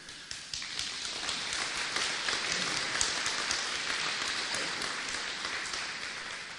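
A crowd applauds at a public event in Székesfehérvár, Fejér county, marking the return of the Seuso treasure: sustained, even clapping from many hands, loud and continuous for several seconds.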